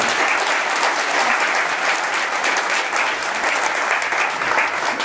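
A crowd at a bullfighting capea in Morcenx applauds loudly and continuously, dense clapping filling the stretch without a break.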